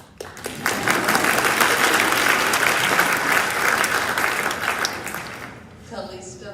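A graduation convocation crowd breaks into sustained applause, a dense, steady wash of clapping lasting several seconds before fading, with a voice speaking briefly near the end.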